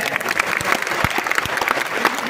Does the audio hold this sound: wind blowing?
no